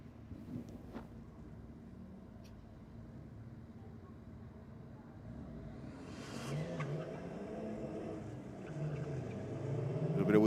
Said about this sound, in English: A little bit of wheel spin